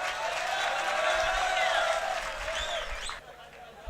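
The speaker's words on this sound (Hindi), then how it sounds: "अगर पसंद आया तो एक बार पूरा सदन तालियों से।" A hall audience at a Hindi poetry recital (kavi sammelan) in Ratangarh applauds in a dense, sustained burst, with voices and whoops mixed into the clapping before it drops off abruptly.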